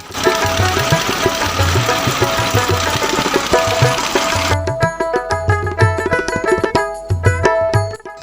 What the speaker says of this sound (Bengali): নৌকার কন্ট্রাক্টর ইঞ্জিন স্টার্ট করে দিলেন